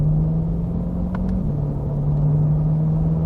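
A 2020 mid-engine Corvette's engine revs up close and loud, a steady deep rumbling drone that rises briefly and then settles, heard alone without talk.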